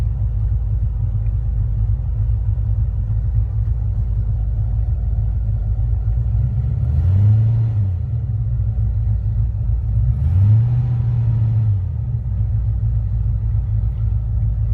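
A 1937 Ford restomod idles after a cold start, a steady low rumble held close throughout, with two brief blips of revving swelling and fading in the middle.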